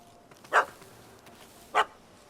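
A dog in The Witcher 3: Heart of Stone gives two short, separate barks against quiet background ambience, with no talking.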